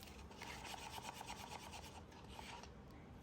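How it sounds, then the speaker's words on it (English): A tool scraping around the side of a mixing container, giving a steady rasping rub of repeated short strokes, fairly faint and close, without any talking. "Scrape around the side."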